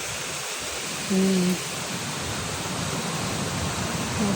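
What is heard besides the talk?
river flowing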